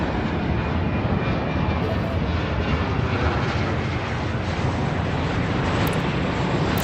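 A jet airliner takes off in the Airport Madness video game, heard as a loud, constant engine roar that holds steady from start to finish with no talking over it.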